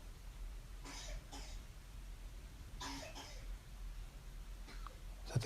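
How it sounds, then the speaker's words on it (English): A baby hare coughs, giving two short raspy bursts followed by a third a couple of seconds later, faint and close against a steady background hiss, with no talking. "Is that the Hare coughing?"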